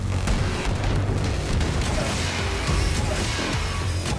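A rocket attack in the shooter Wolfenstein II explodes in a dense, loud rumble of booms and mechanical clatter, several sharp impacts breaking through a constant roar of combat noise.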